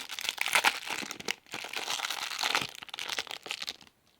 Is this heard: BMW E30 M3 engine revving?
no